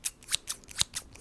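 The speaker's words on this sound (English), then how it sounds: "I think these scissors actually sound really, really good." A pair of scissors snips crisply near the microphone, about eight quick cuts in an uneven rhythm, alone.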